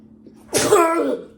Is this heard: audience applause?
no